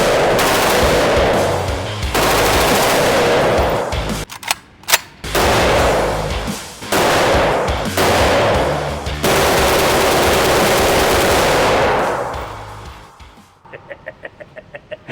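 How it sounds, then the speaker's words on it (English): A gun fires in full auto in long, loud sustained bursts, several strings of continuous gunfire separated by brief gaps, ending with a few scattered pops. "Pull it in full auto, aim at the belly button, and just keep that muzzle rise down."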